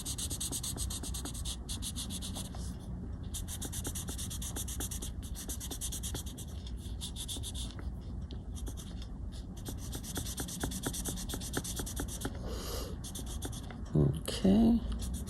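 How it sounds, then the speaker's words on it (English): Paper stump blending a pencil Zentangle drawing on paper, a soft continuous rubbing and scratching with repeated short strokes, faint and close, ending in a brief handling noise. "I can blend these with my, well, in this case, it's a paper stump"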